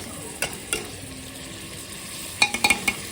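Rice tipped into meat in a hot pan and stirred, a soft steady sizzle with a few scraping utensil knocks and clinks against the pan, close by with no talking.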